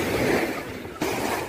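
Rough surf at Girgaon Chowpatty beach in Mumbai on a day with red warning flags up, heard as a steady broadband wash of crashing waves with one fresh surge near the end, loud and close.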